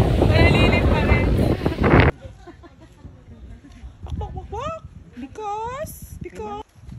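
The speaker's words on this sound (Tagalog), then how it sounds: "Sobrang hangin dito." Strong wind gusts buffeting the microphone on an island beach, a loud roaring blast for the first two seconds, then quieter gusty rumble with birdlike chirps and people talking.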